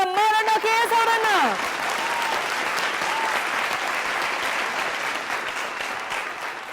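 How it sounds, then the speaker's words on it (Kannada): Loud applause from a studio audience welcomes a singer onto the stage of a singing reality show, steady and sustained throughout, with a brief sung or musical tone fading out at the start. "ಜೋರಾದ ಚಪ್ಪಾಳೆಯೊಂದಿಗೆ ವೇದಿಕೆ ಮೇಲೆ ಬರ್ಮಾಡ್ಕೊಳ್ಳೋಣ"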